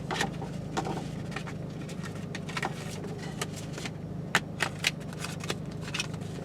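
Paper note cards for comedy material are handled and shuffled close by, giving soft irregular rustles and flicks with a few sharper snaps near the end, with no talking.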